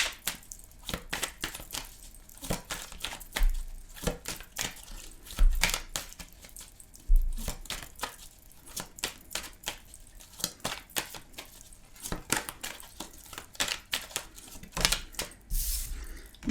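Tarot cards are shuffled by hand in quick, crisp riffling flutters and soft slaps, close and quiet, in irregular bursts repeated over some sixteen seconds.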